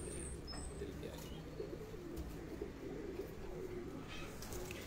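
Pigeons coo softly on a rooftop amid a low steady background hum, their faint calls repeating in brief bursts with a few light chirps.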